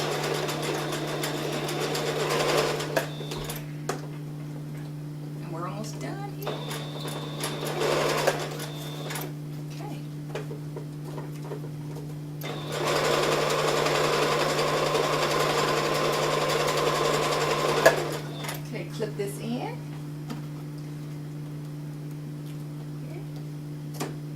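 A sewing machine stitches continuously, going round and round the loops of a script letter D on a craft travel pillow, a steady mechanical whir with bursts of faster running, close and fairly loud, with no talk over it.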